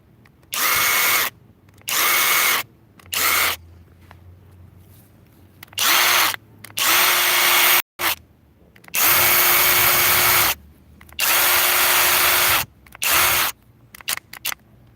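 DeWalt and SKIL impact drivers running on lug nuts, loud repeated bursts of rapid hammering rattle with pauses between, several short runs and a few brief blips at the end, no talk.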